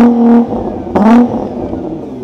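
A Nissan GT-R R35 at a car meet gives two short, sharp engine revs, close and loud, each rising quickly and then falling back to a rumbling idle.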